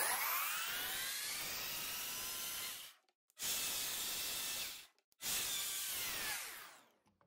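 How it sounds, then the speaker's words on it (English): A chain mortiser cuts a timber frame mortise with a loud, close, hissing mechanical roar in three sustained bursts, separated by two short silent pauses. "We've got the mortiser set just a hair deeper than we actually want the pocket."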